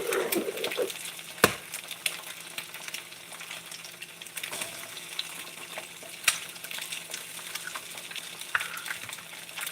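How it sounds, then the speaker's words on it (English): Sausages fry in a pan with a steady crackling sizzle, dotted with sharp pops and a few clinks of utensil against metal, close and alone without voices. "I'm going to turn my sausages off because they over there just are rumbling"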